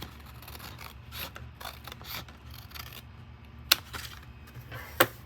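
Paper being cut with scissors to make a one-page gift box: soft rubbing and rasping snips across the clip, with two sharp clicking cuts standing out near the end, close and quiet with no talk.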